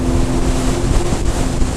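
A Sea-Doo Fish Pro Trophy watercraft slices through choppy water at speed, a loud steady engine roar mixed with splashing spray and heavy wind buffeting the microphone throughout.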